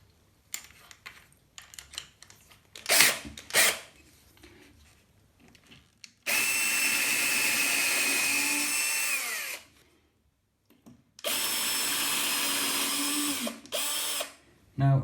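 Power drill fitted with an 8mm bit boring through ceramic wall tiles, running loud in two sustained bursts of several seconds each, separated by a short pause, with some handling knocks beforehand.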